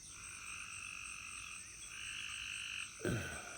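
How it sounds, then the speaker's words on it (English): Frogs croaking outdoors at night after rain near a big pasture and garden, a dense chorus of overlapping trills held steady and moderately distant, with a louder nearby croak near the end. "Frogs are making their noise."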